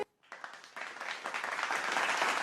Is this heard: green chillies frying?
no